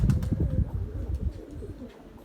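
Tumbler pigeons coo close by in low, rounded bursts on a windy day, with a brief flutter of wings near the start before the calls settle and fade.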